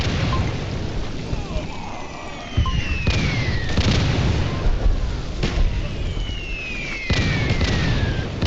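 Explosion-like bursts from a chemical grenade in the Roblox game Scorched Earth, with several sharp booms around the 2.5, 3, 5.5 and 7 second marks over dense game noise and whistling tones.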